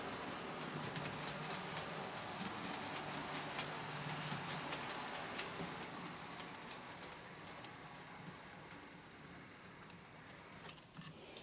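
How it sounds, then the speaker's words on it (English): A model London Underground S-Stock train runs steadily with a rushing, rattling hiss, gradually easing slightly quieter toward the end, with a few sharp clicks. "this train will do quite a slow speed, but it's a bit noisy at higher speeds."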